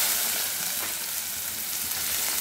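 Kardai greens hitting hot oil with sliced garlic and cumin, a loud, dense, continuous sizzle that holds steady throughout.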